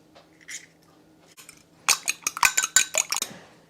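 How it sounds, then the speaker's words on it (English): An egg beaten in a dish for egg wash, quick rhythmic clinking of utensil against the dish, close and bright, starting with a few soft taps then a rapid burst of strokes. "Okay, we have the egg beaten up."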